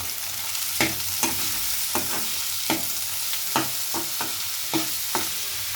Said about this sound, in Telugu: ఉల్లిపాయ ముక్కలను ఒకసారి బాగా కలుపుకొని ఒక 5 నిమిషాలు ఫ్రై అవ్వనివ్వండి.